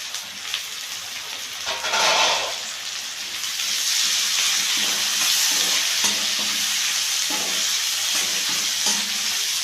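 Onions and tomatoes sauté in a pan for a Chettinad pumpkin puli curry, giving a continuous loud sizzle with a short burst of stirring early on, then repeated spatula scrapes against the pan.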